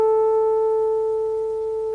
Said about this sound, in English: an electric circuit is sending out a signal which is being fed through to the loudspeaker